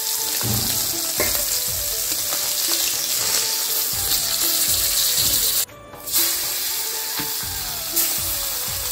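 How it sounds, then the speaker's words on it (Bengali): Steady, loud sizzling of chanda fish frying in hot oil, with occasional scraping and clinks of a utensil and a brief pause in the middle. "মাছটা ভাজা হয়ে গেছে, এখন উঠাই নেব।"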